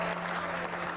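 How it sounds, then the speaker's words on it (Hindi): A studio audience at a talk show applauds a drama cast guest with a brief, dense, steady burst of clapping that fills the whole moment at close range. "फबिया हाशमी के लिए बहुत ज्यादा तालियां"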